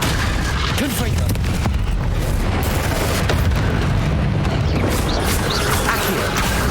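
A Confringo blasting spell explodes in the video game Hogwarts Legacy, heard as loud booming blasts within dense, continuous game noise, with no pause between impacts.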